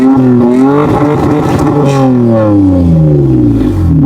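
A Toyota Tacoma with a cat-back exhaust and full stainless steel piping revs hard. Its engine climbs and falls in a loud, close, throaty rumble and stays clear of talk.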